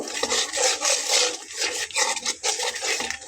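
A spoon scrapes and stirs through fish curry with cauliflower as turmeric powder is mixed in, producing close, irregular scraping and clinking against the pot in quick repeated strokes, with no voices.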